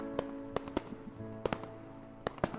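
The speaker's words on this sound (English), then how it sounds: "We both sat there watching the fireworks with sparkles in our eyes." Fireworks burst in the Camp Buddy visual novel game, a string of sharp cracks and pops at uneven intervals over a soft background music bed, fairly close and crisp.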